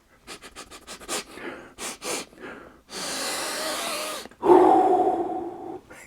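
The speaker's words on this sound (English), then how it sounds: "let's come in for a sniff test" Someone sniffs plastic Warhammer 40,000 Kroot miniatures from a Tau Empire army set up close: a quick run of short sniffs, then longer drawn-in breaths and a heavier exhale, close and unaccompanied by talk.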